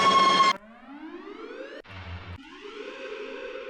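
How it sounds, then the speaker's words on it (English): A synthesized siren for a tearout dubstep drop follows a short buzzy burst: rising electronic sweeps, a brief gritty stutter, then a sustained wailing tone, all clean and upfront with no voices. "We'll also go for a siren sound."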